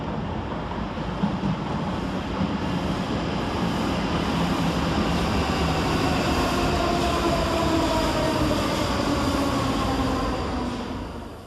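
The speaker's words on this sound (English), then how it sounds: "Coming out of the tunnel is 334024, working the 1717 Scotrail service from Milngavie to Edinburgh Waverley." A ScotRail class 334 electric train emerges from the tunnel at Glasgow Queen Street station, a steady rolling rumble and rising hum that swells and holds for several seconds before easing off, with no talk.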